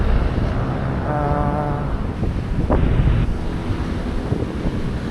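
Cool wind buffets the microphone at a high viewpoint overlooking Lumpini Park, a loud, continuous rushing roar with steady gusting and no speech.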